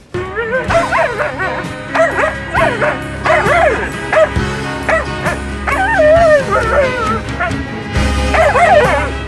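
A dog yips and whines in rising, wavering cries that stretch into short howls, loud and close, repeated throughout with a low background hum.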